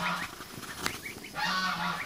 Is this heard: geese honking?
yes